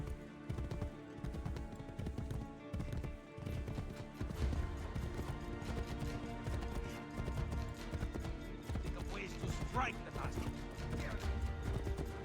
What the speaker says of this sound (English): you see how slow these horses are?